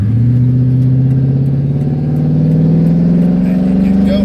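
A Toyota Tundra pickup pulls away, its engine drone rising smoothly in pitch as it accelerates, loud and close, with a faint light clatter near the end.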